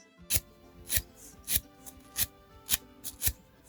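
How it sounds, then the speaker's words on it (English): A wire brush scrubs rust off metal in short, sharp rasping strokes, about seven of them in a steady rhythm, close but fairly quiet, with no talking. "Now I'm going to take a wire brush."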